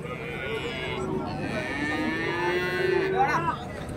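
Cattle at a rural livestock market in Kundarapalli, Krishnagiri district, give long, nearby moos, one drawn-out call rising and falling over a crowded background.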